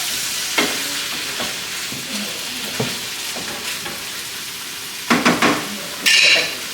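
Tortillas frying and starting to burn in a pan, with a constant hiss of hot oil and intermittent scraping and clinks of a utensil against the pan, plus a louder clatter near the end.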